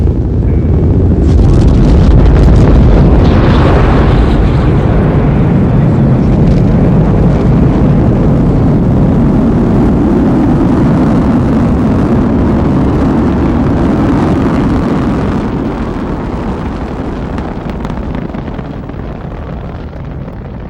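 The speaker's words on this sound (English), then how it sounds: "T-minus 10, go for main engine start." Space Shuttle main engines and boosters thunder at liftoff, a massive sustained roar with crackling rumble that stays loud for a long stretch before easing slightly as the rocket climbs away.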